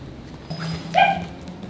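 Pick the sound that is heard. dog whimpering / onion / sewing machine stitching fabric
dog whimpering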